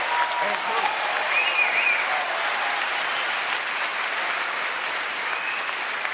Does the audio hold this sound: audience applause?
yes